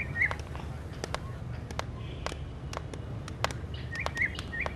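A myna bird sings in a home setting with short whistled chirps and calls scattered over a steady low background hum, with a few clearer whistles near the start and end.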